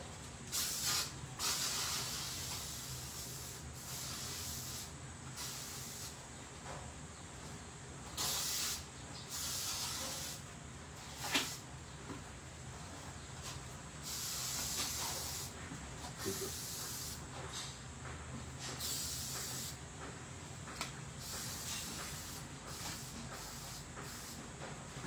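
Aerosol insect spray hisses in repeated short bursts against flies in a home during the rainy season, each spurt near and fairly loud over a steady low background hum.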